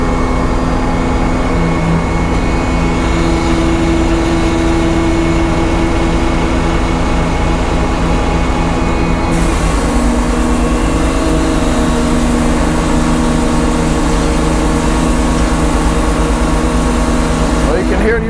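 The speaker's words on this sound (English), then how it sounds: "Hear the old bus motor humming though." Old bus engine idling with a low, steady hum and drone that runs continuously, with a brighter broadband layer joining partway through, close and loud.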